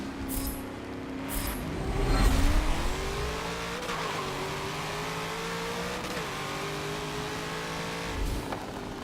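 A 2017 Camaro ZL1 widebody in Forza revs and roars steadily with shifting pitch, a few sharp bursts and tire noise, loud and close, no voices.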